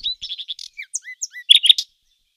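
A nightingale sings a quick, clear sequence of varied chirps and whistled notes, ending in a louder burst of trills, alone and close.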